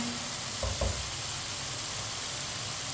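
Tomatoes sizzle in a hot pan with a loud, even, continuous frying hiss, broken only by a couple of brief soft knocks near the start.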